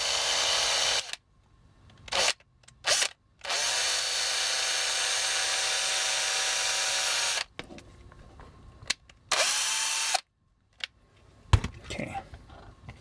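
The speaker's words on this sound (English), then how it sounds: "let's see if we can't re-drill this one." A small power drill re-drills a Star Wars Obi-Wan Kenobi Pepsi bottlecap toy figure for added articulation, heard up close as several short whirring bursts followed by one long steady run and a few more brief spurts.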